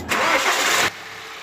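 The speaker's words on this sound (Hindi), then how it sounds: "तो कर देते हैं इस कार को स्टार्ट।" A BMW X1 car engine cranks and catches after an engine oil cooler replacement, a loud whirring start lasting under a second, then cutting to a quiet low idle hum.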